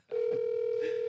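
A steady single-pitch phone tone sounds as an outgoing call rings out, one continuous electronic drone starting abruptly and holding at even loudness for about a second.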